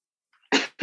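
A person with acid reflux and high blood sugar gives two short, close coughs in quick succession after a brief silence.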